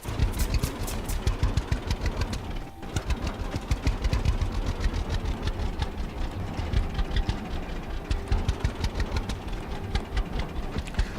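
A tractor engine in the farming video game Farmer's Dynasty runs steadily, a loud continuous mid-pitched drone with a brief dip partway through, heard on its own without talk.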